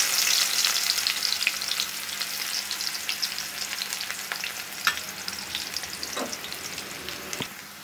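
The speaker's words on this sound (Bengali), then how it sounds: "আমরা ভেজে রাখা কোপ্তার তেলে আমরা এখন পেঁয়াজ কুচিগুলি দিয়ে দিব।" Chopped onions fry in oil left over from frying chicken and cauliflower koftas, a dense, close sizzle with occasional scrapes and pops of a spoon moving through the pan, no voices.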